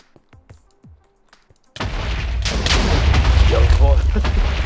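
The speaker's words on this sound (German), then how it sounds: "Ich schieß Feuerbälle." Fireballs launched in a multiplayer survival video game in boss mode: after a few quiet clicks, a sudden loud, sustained burst of booming, crackling blasts fills the rest of the clip, with players' voices mixed in.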